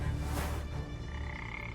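A frog croaks in a simulated rainforest setting, one close, loud rasping croak near the start that tails off into a quieter, steady backdrop of insect-like hum.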